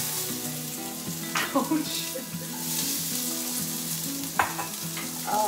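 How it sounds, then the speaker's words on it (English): A medium onion and two celery stalks frying in a pan on a gas stove, a steady close sizzle with a few louder spitting crackles, and a brief exclamation from a voice partway through. "Then I'm putting one medium onion and two stalks of celery into my pan"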